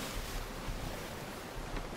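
Rough open-sea waves in the pirate game Sea of Thieves wash and roar as a constant, loud, wind-blown surge with no voices over it.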